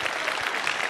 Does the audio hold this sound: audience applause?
yes